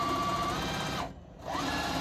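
Juki TL-2010Q sewing machine stitching at high speed, a fast steady whirring buzz that stops briefly mid-way and then resumes, close and clear.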